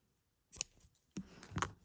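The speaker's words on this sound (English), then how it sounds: "Actually, I'm going to cut them." Scissors snip through knitting yarn on a cardigan project in two quick, close, crisp cuts with a short pause between them, in an otherwise quiet room.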